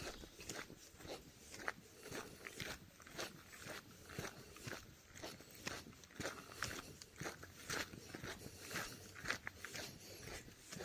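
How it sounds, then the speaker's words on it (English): Footsteps crunch steadily along a dirt and leaf-litter section of the Appalachian Trail in Pennsylvania, near Tom's Run Shelter. The walking rhythm is close and continuous with light scuffs and rustles, and no one speaks. "Oh, the sound of my footsteps."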